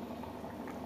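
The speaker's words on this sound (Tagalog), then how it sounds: "kumukulo na po yung ating chestnut" Chestnuts boiling in a pot of water give a steady, close bubbling and simmering wash with no talk over it.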